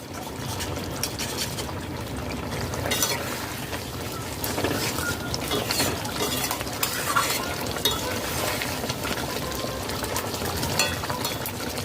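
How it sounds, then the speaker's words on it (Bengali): Egg curry bubbling in a pan after ghee is added, a continuous close sizzle and simmer with stirring noise throughout. "ঘি দিয়ে এক মিনিট ফুটিয়ে নিয়েছি"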